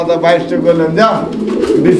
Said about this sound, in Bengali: আরো এক জোড়া কবুতর এটাও রেসার কবুতর